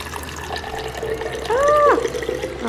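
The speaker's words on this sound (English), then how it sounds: "I'm just gonna pour it in here." Rice water poured from a bowl into a container, a brief gurgling splash of liquid rising near the end, heard close amid quiet room noise.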